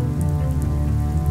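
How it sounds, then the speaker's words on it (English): Rain falls steadily on a surface as a dense, even hiss of drops, close and continuous with no voices. "Clouds return water to Earth in the form of rain and snow."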